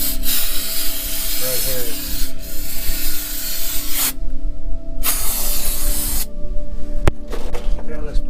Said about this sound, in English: Just give it a brake clean.